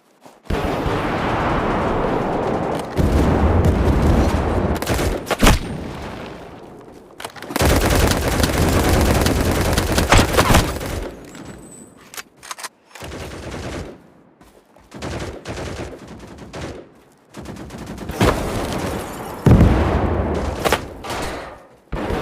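Loud bursts of gunfire and explosions from a Battle Prime Mobile team deathmatch, with repeated volleys and rapid automatic fire broken by short pauses.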